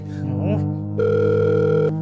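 Telephone ringing for a phone call, a loud electronic tone that holds steady for about a second after a brief warbling chirp.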